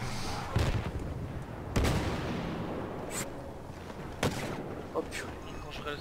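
Repeated heavy gunfire bursts from a turret in the Star Wars Battlefront video game, sharp blasts spaced irregularly over a dense rumbling battle bed, with players talking throughout.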